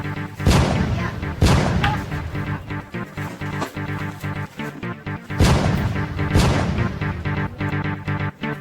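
Repeated heavy gunshots boom out at irregular intervals over a busy, droning background, loud and close.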